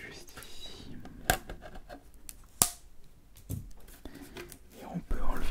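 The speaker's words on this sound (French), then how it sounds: "Le petit coup de ciseau juste ici." Sharp scissor snips cut into the plastic wrap of a Pokémon Pikachu EX box, two distinct crisp clicks standing out amid soft close-up rustling and whisper-quiet handling.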